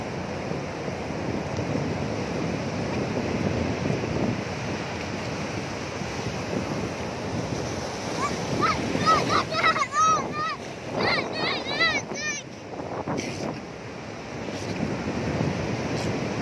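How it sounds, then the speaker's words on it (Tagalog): Strong, rough waves roll in at a baywalk beach, a steady broadband wash of surf mixed with wind buffeting the microphone, while people's voices and a few brief chirpy sounds rise over it midway. "Lakas ng alon talaga oh."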